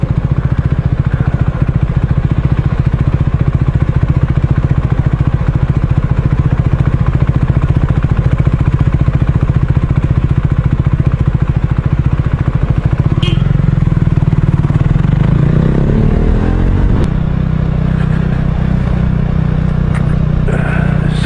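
Motor scooter engine passing through city traffic in Melbourne, a loud steady drone of traffic with a rising, clattering engine note growing closer near the end.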